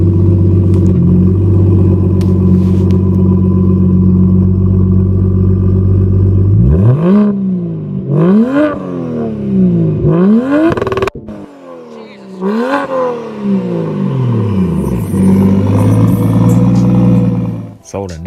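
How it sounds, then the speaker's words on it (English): One of Adam LZ's cars idles with a deep, loud exhaust rumble, then gives several sharp, close revs that rise and fall back, ending with a crackling burble as the engine settles. "let you guys hear exhaust clip so that you can have an idea how it sounds"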